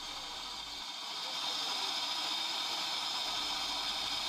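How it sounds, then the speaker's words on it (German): Steady broadband hiss, loud and continuous, swelling slightly after the first second and holding, like steam venting from a nearby steam locomotive being serviced on the Rigi mountain railway in Switzerland. "Unsere Dampflok wird versorgt"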